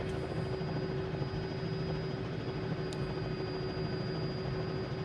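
Steady turbine whine and rotor drone of a Cowan Sim R66 helicopter in Microsoft Flight Simulator 2020, a constant, unbroken engine tone with a faint brief click near the middle and no talking.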